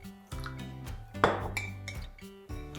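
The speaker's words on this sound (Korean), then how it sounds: "양념장 그릇에 물을 좀 한번 헹궈서" A seasoning bowl is rinsed with water in a home kitchen while stew is being made, with several bright, close clinks of the bowl against dishes and some soft handling noise between them.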